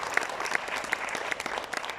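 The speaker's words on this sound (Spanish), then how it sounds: "Le puede dar un aplauso al Señor." A church congregation claps as an offering of praise to God during a Spanish-language sermon. The applause is brief and fairly quiet, with scattered claps throughout and no talk over it.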